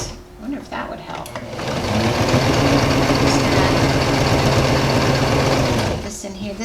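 A sewing machine runs steadily through layers of denim jeans, a close, loud mechanical hum that starts after a brief pause and holds for several seconds before stopping.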